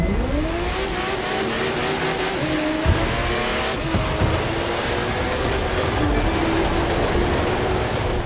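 Engine of a race car in The Crew 2, racing in a Summer in Hollywood event, revving loudly and steadily with rising and falling pitch as gears shift, tires squealing briefly, no talk.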